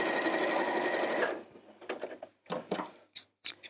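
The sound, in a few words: sewing machine stitching reverse stitches on a seam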